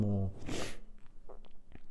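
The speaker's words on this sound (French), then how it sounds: "désolé pour ce reniflage des plus dégueulasses" A man sniffs once, loudly and wetly, right after a brief bit of voice, and then breathes quietly up close.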